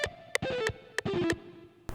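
An electric guitar with effects and distortion plays a descending scale across the top three strings, several separate picked notes with short pauses between them, close and clear with no talking.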